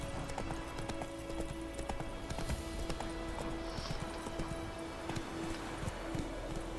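Hooves of a horse clip-clopping at a steady trot or gallop in The Witcher video game, a continuous rhythmic patter of many quick hoofbeats with a brief whinny, heard alone without talk.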